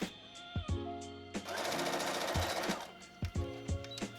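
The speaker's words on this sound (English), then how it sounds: "So I'm just going to measure it and sew it." A domestic sewing machine stitches folded fabric strips into a loop for a shirt sleeve, running in a fast, steady whirring burst between short start-stop clicks and hum, close and fairly quiet with no speech.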